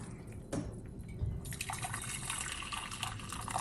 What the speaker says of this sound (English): So now we are going to pour water for these 3 colors in 3 pans.